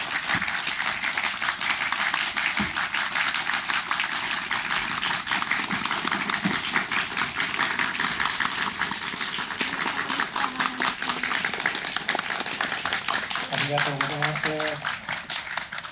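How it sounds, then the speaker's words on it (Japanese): Dense, sustained applause from a talk show audience seeing off the guests, steady and fairly close throughout, with a brief musical tone near the end. "大きな拍手をお見送りください。"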